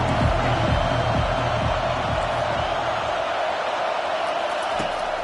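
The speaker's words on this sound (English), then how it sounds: "This crowd bringing an ear-splitting welcome to their visitors." A packed football stadium crowd roars a loud, sustained welcome for the visitors, with a dense wall of cheering and scattered thumps early on.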